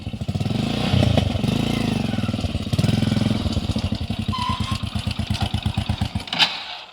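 A motorcycle engine runs close by with a steady, throbbing idle, its beat quickening and slowing slightly as the throttle shifts, continuous throughout with no voices.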